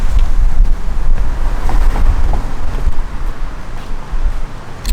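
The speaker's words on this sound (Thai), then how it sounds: "ลมดีแน่เลย" Steady, heavy wind buffets a microphone outdoors, a loud continuous low rumble that fills the whole stretch, with no speech.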